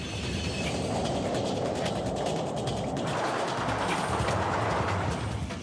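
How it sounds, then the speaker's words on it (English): An underground train approaches a platform with a loud steady roar and rushing air, rising slightly as it nears, with faint metallic rail clicks and rattles throughout. "When a train approaches an underground platform, it pushes a rush of air ahead of it."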